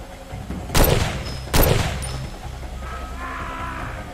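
Two sharp gunshot blasts ring out in the Far Cry 2 video game, the second about a second after the first, each trailing into a short echoing tail over a low ambient hum.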